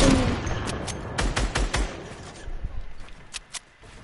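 Enemy gunfire in a multiplayer shooter: a fast, loud burst of sharp automatic shots up close, then scattered, fainter single cracks trailing off, with no speech over it.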